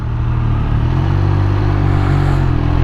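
A Triumph Speed Triple 1200 RS motorcycle with a slip-on exhaust runs at a steady low throb, a loud continuous rumble heard close up without talk.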